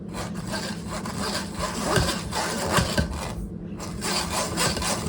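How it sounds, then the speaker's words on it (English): Flour sifted through a hand sifter into a bowl for chocolate chip cookie dough, giving a steady, close, rasping scrape that carries on for several seconds with no talk. "the remaining flour, I'm going to put it into the sifter"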